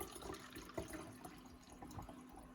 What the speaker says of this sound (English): So what we do is we pour our kombucha in,